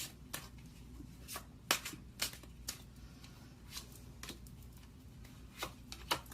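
Tarot cards being shuffled by hand: soft, sparse flicks and light slaps of card against card, quiet and close, coming at irregular intervals with no voices.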